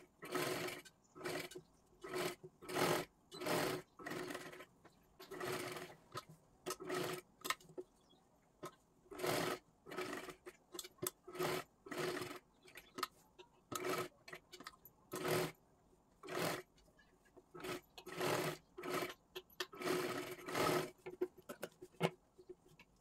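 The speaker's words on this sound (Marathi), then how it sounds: "पूर्ण गळ्याला ना आपल्याला शिलाई करून घ्यायची आहे व्यवस्थित" A sewing machine stitches all the way around a blouse neckline, running in repeated short bursts of rapid motor whirring separated by brief pauses, close and fairly steady throughout.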